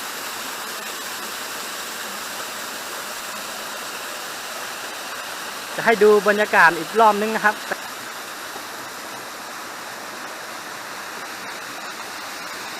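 Waterfall and stream flowing beside a forest campsite: a constant, even rush of water throughout, with someone speaking briefly over it midway.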